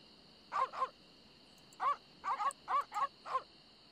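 Chained dogs barking in The Secret of Monkey Island video game: a sequence of about eight short, sharp barks, some in quick pairs, from a retro game soundtrack with a faint steady background tone, no talk.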